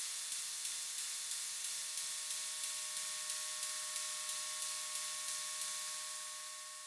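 A looped track runs through an echo effect with the feedback ramped high, giving a bright noisy wash with regular rhythmic ticks and a low murmur beneath that slowly fades at the end.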